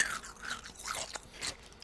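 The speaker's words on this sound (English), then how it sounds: "Are you chewing some ice" Ice being chewed, a few close crunching bites in quick succession, fairly quiet with no talking over it.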